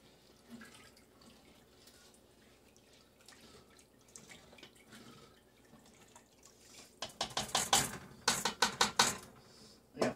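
Water poured into a cooking pot for a batch of New Year's Day greens, a splashing run that grows loud in bursts toward the end after a quieter stretch of small kitchen noises.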